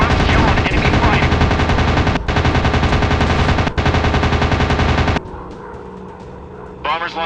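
Sustained rapid machine-gun bursts in an aerial combat video game, loud and continuous with two short breaks, then a quieter stretch ending in a final burst, with radio-style voice chatter mixed in.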